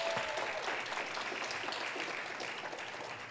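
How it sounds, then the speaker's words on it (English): Audience applause for the debaters at a school breezeway dialogue debate event, a dense, steady patter of many hands clapping throughout, moderately loud and slowly tapering off toward the end. "Let's give the debaters another round of applause."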